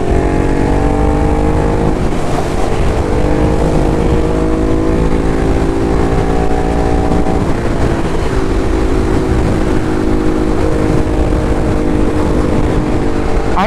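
A Ducati Hypermotard motorcycle, stripped of its hand guards and turn signals, roars steadily while ridden, its engine drone close and loud with the pitch rising and falling through gear changes.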